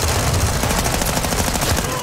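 Rapid LMG hip fire in Call of Duty: Modern Warfare, a fast, unbroken stream of close, loud shots at an even rhythm.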